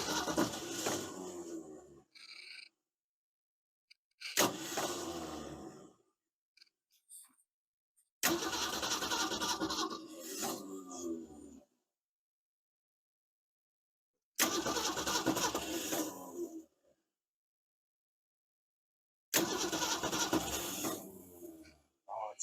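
A 1969 Ford Falcon engine, long parked, cranks on its starter in several separate bursts of a few seconds each, loud and close, with silent pauses in between, almost catching without starting.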